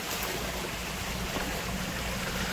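A clear mountain valley stream at the foot of Woraksan near Chungju flows in a steady, close rush of water with no breaks and no voices.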